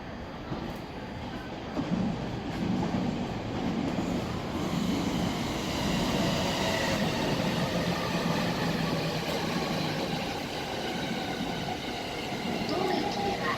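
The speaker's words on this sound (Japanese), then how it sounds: "まもなく4番線に列車が参ります。" An E257 series train pulls into Abiko station on the Joban line, a broad continuous rumble and rolling rail noise swelling across the platform and staying loud throughout.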